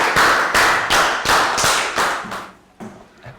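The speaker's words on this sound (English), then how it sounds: "A round of applause for everybody." Class applause in a maths lesson: a series of sharp, regular hand claps, about six strong ones in a row, that then fade into a few softer scattered claps.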